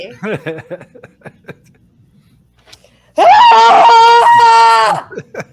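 A woman lets out a long, loud, strained scream imitating the horror character Carrie, rising after a pause of quiet speech and laughter, held for nearly two seconds before talk resumes.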